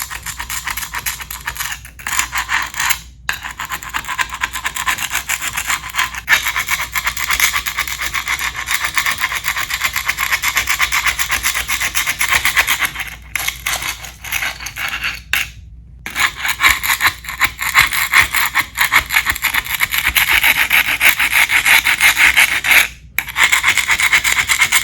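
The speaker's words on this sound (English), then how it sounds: "I'll start with my old Craftsman chisel, and I'll do my best not to gouge the tile as I do this" An old Craftsman chisel scrapes grout off a tile floor around a grouted-in toilet, producing continuous gritty scraping and rasping close by, with brief pauses between strokes and no talk.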